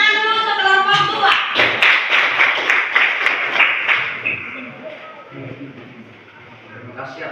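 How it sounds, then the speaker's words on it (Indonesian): Scattered hand claps from the audience greet group 2 at a group presentation, rising for a few seconds under steady talking and then thinning out into quieter murmuring. "Tepuk tangan dulu untuk kelompok 2."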